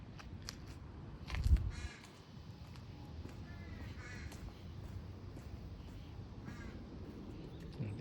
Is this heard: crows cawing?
yes